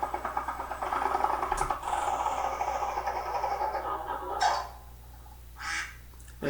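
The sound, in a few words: duck sound in Ballyland keyboarding video game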